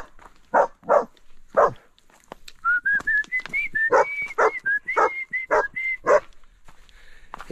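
Hunting dogs bark repeatedly around a forest cabin, a series of sharp close barks with a high, thin whistle-like whine rising through the middle, as if from a dog nearby.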